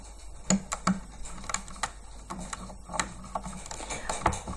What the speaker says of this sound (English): this is just a way of loosening the bands and relieving some of the tension